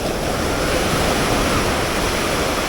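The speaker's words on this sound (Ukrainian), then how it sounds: "І хвилі, подивіться, які." Sea waves wash steadily onto the shore at Almyrida, a small resort village on Crete, Greece, on a warm evening: a continuous, fairly loud rushing surf with no voices.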